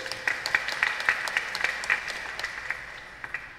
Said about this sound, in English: Let us clap our hands for the Lord.